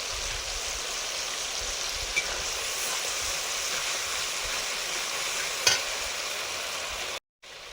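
Water goes into a cooking pan of spiced fish curry, a steady rushing hiss with soft sizzling, a couple of brief clinks, ending abruptly.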